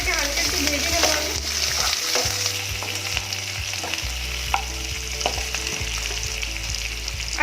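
Chopped onion with whole cumin frying lightly in a pan, a steady close sizzle with repeated spatula scrapes and stirring taps throughout.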